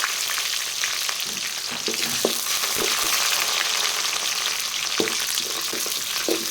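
Dried red chillies and onion fry in hot oil with a steady, dense sizzle throughout, and a few faint stirring clicks and scrapes rise briefly above the crackle.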